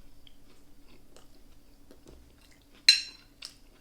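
A bite of food is chewed in a quiet room, soft faint mouth sounds followed by one sharp crunch and a smaller second crunch shortly after.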